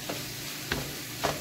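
Ground beef fries in a pan with a steady, soft sizzle, broken by three brief scraping stirs at regular intervals.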